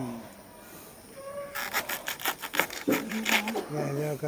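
A banana flower's tip being cut with a knife in a village kitchen, giving rough, rasping sawing strokes that start about a third of the way in and repeat unevenly, close and fairly loud, with bits of background voice.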